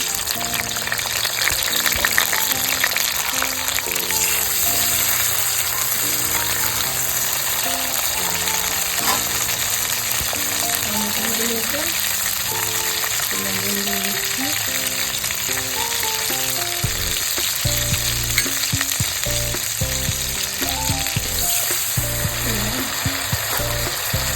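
A bay leaf and chopped tomato sizzling in hot oil, a loud, close, unbroken frying hiss with bursts of crackle and occasional stirring, going on at length without speech.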